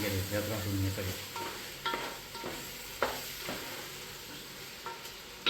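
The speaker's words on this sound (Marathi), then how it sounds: "चांगलं आता हे भाजून घ्यायचं आहे." Mutton and spices for mutton pulav are roasted in a pan with a soft sizzle, while a spoon scrapes and stirs in irregular strokes with a few sharp knocks against the metal.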